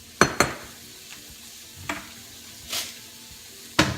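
Zucchini noodles sizzle softly in a hot pan while a few sharp scrapes and clacks of stirring break in at irregular moments, close and fairly quiet.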